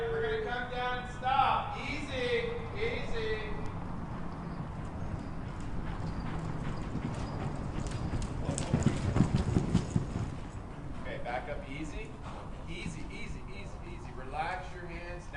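Rhythmic hoofbeats of a horse clip-clop across the ground during fence jumping practice, swelling louder at times, while people talk over them.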